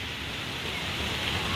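A strong, steady wind rushes during a dust storm and shakes the trees, making a dense, continuous hiss that stays fairly distant and even with no talking.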